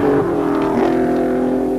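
A rally car on the 1988 Ashley Forest Rally Sprint stage holds a steady, loud engine drone that surges slightly in pitch, close by and with no voices.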